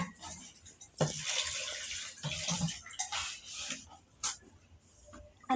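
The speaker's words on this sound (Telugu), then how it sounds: "ఇప్పుడైతే మటన్ కడుగుతున్నా" Running water from a home tap while mutton is rinsed in a kitchen, a steady close wash with splashing bursts and brief clatter, no talk.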